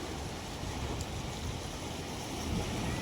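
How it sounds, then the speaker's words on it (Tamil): Water rushes forcefully out of a dam where people are cast-net fishing, making a continuous broadband roar that stays steady and close the whole time. "டேம்லேருந்து எவ்வளோ தண்ணி சும்மா காற்று போல் வீசுது ஃப்ரெண்ட்ஸ்"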